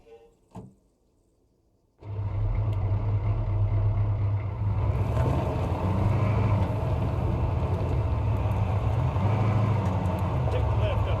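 An engine starts up and then runs in a military vehicle driving in Arma 3. A brief thump is followed by a steady, loud engine drone that holds without a break for the rest of the moment.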